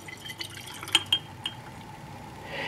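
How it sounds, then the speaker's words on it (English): Sodium bisulfite solution poured into potassium iodate solution in glassware, a few close clinks and splashy drips followed by a brief soft pouring rush, quiet and without talking. "is combined with 5 milliliters of the sodium bisulfite solution"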